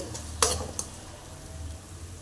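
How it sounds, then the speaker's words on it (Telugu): Onions fry in a pan for palak chicken curry, a low steady sizzle up close, broken by two quick metallic scrapes of a spoon early on. "ఆనియన్స్ పై బంగారు రంగులోకి లైట్గా వస్తాయి కదండి అప్పటి వరకు మనం ఇది ఫ్రై చేసుకోవాలి"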